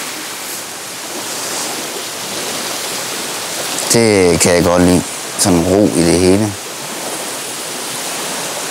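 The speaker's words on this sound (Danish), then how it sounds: "Bare lyt til havets brusen." Sea surf rushes at the shore as a steady, broad wash of noise, with people talking briefly over it partway through.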